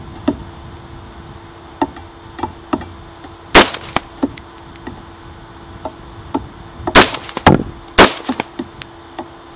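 Sharp, loud rifle shots from a rifle built on a Hoffman Tactical 3D printed lower, fired outdoors as separate reports and tight bursts of several rounds, with gaps between them.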